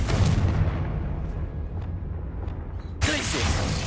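A Confringo fire spell bursting in Hogwarts Legacy, heard as a loud, rumbling blast that sustains and fades, then a second sharp burst near the end, all thick with low booming energy and no speech over it.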